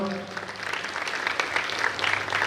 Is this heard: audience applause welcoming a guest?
yes